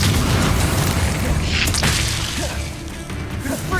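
A Bombarda spell explosion bursts in Hogwarts Legacy, a booming blast with crackling debris over dense, continuous game sound.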